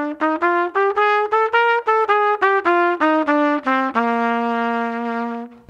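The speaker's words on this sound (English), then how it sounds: "Simply put, it's a mixolydian scale with both the major 7 and the flat 7 in it." A bebop dominant scale, a mixolydian scale that adds the major seventh, played as a fast run of separate pitched notes, each one clear and distinct, ending on a held final note, with no talking.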